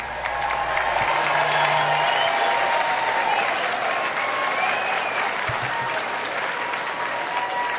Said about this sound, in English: Let's give the musician a nice round of applause